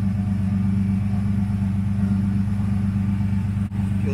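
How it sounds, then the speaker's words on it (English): The twin-turbo engine of a 530HP Porsche 993 C4S with a Protosport-built motor runs in a loud, steady, deep rumbling drone, close by and unbroken apart from one momentary dip. "This is the twin turbo. It really makes a lot of noise."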